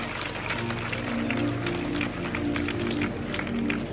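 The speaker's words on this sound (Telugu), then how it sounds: "గట్టిగా చప్పట్లు కొట్టండి దేవునికి." A church crowd at a vacation Bible school skit applauds loudly, a continuous dense roar of many hands clapping together, with some voices underneath.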